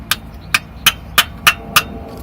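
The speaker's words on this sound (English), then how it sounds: "Once it's there, push it down with something like a hammer." Six sharp hammer taps, evenly spaced, push a shifter bush into place on a Civic Type R EP3. Each strike is close, crisp and metallic, and the room is otherwise quiet.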